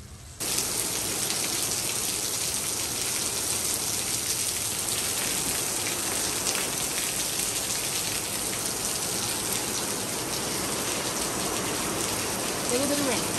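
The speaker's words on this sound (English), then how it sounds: "Watching the rain come down from the tropical storm, tropical depression." Steady rain from a tropical storm pours down near an RV campsite porch, a dense, even hiss of drops on surfaces that starts abruptly and continues without a break, close and alone.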